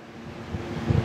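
A Hindware Desert 85-litre air cooler runs with its fan on high speed, giving a steady broadband whoosh of rushing air that grows slightly louder and rougher toward the end.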